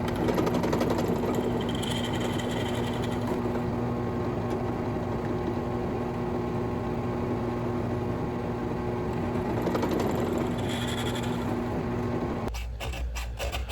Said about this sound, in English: I am making additional holes for the fasteners.